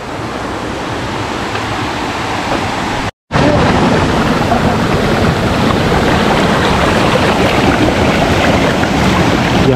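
Water rushing through a channel feeding a village watermill in Dardyal, Swat, as a loud continuous roar heard up close, briefly cut off for a moment before resuming.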